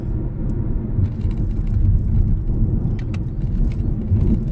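A 2025 Mitsubishi Xpander GLS cruising on an open expressway near Norzagaray, Bulacan, giving a steady, loud interior road and engine drone with faint tire roar and occasional small rattles, without talk.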